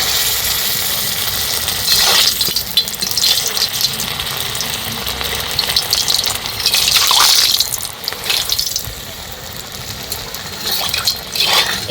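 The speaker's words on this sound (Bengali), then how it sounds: "এবার এগুলো ভেজে নেব।" Rice-flour rosh puli pitha fry in hot oil, a continuous hissing, bubbling sizzle with a few louder surges and faint clinks, steady and close for the whole stretch.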